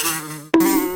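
A honeybee buzzes in a steady, droning hum that breaks off for an instant and resumes louder and higher, with no voices.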